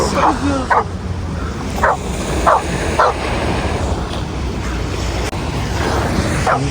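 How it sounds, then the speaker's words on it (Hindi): Dogs bark in repeated yips and woofs while playing on an English Bay beach in Vancouver on a freezing evening, with a steady wash of surf and wind filling the background. "इन कुत्तों को बहन चैन नहीं आ रहा है, इनको खेलने की पड़ रही है"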